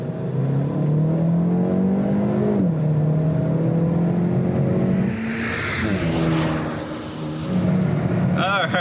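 Hyundai Elantra N Line with JB4 tuner disabled accelerating from 40 to 80, engine note rising steadily in pitch with gear shifts, a droning in-cabin roar heard from inside the car.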